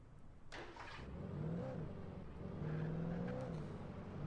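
A car engine in the video game Alan Wake Remastered revs up and accelerates twice with rising whine, steady and moderately loud, with no talking.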